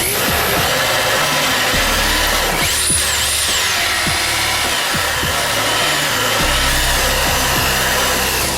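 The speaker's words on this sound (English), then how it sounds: "we're going to drill right through the bulkhead." A hole saw on a power drill cutting through a boat bulkhead, a loud, continuous grinding drone with scattered knocks and scrapes as the bit bites, close and sustained without pause.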